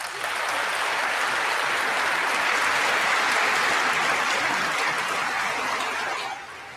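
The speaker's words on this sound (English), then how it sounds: "That's Netanyahu level applause, by the way." Applause following a speech, a full dense round of clapping from a large audience that swells, holds steady for several seconds, then drops away abruptly near the end.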